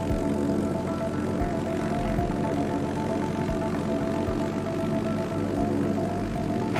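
Fighter aircraft engine in the naval combat game World of Warships, a steady continuous propeller drone that stays loud and even throughout with no talking.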